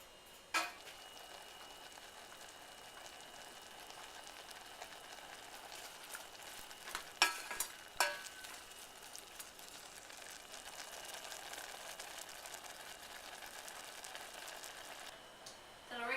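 Mushrooms and vegetables simmer-fry in a pot for vegetable barley soup, giving a steady, soft hiss of sizzling with a few sharp clicks of stirring partway through.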